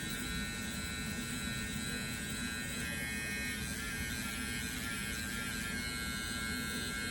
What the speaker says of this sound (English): you get down in there with that clipper, dig it with this part of the clipper